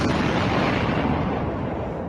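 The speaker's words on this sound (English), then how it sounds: "Needed the explosion at the end." Explosion sound effect: a loud, dense blast of roaring noise that holds steady for about two seconds, then tapers slightly, with no voices.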